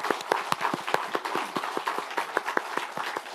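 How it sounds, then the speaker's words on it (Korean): Lawmakers at a party assembly applauding the candidates, sharp distinct claps in an irregular rhythm from a modest group, close and clear, with little talk. "여러분 격려의 박수 한번 부탁드립니다."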